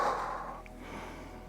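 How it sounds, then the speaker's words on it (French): A single soft exhale during a yoga breathing exercise, a gentle breathy rush that fades over about a second with no talk. "C'est souffler et inspirer"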